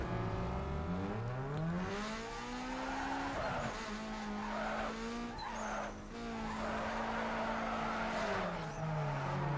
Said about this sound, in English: That was a beautiful drift.